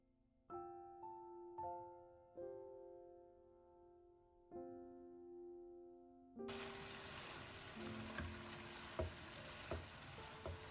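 Bell peppers and mushrooms sauté in a pan, breaking into a loud, steady sizzle partway through after a few soft, ringing melodic tones.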